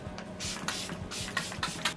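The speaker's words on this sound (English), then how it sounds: "This is the Summer Fridays Jet Lag Skin Soothing Hydrating Mist." A Summer Fridays Jet Lag hydrating face mist is sprayed in several quick, close hissing bursts, one after another, with no talking.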